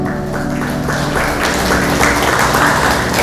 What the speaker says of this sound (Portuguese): Pode aplaudir, Júlio.